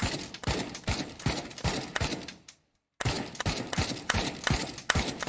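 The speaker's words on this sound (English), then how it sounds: "let's test out the AK here" Rapid bursts of AK rifle gunfire in a VR shooting game, loud and close, with a brief silent gap in the middle before the firing resumes in a steady rhythm.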